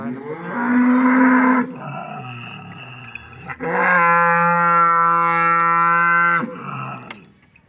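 Two long, loud cow moos, one drawn-out bellow followed after a short pause by a second, deeper and sustained, close to the listener.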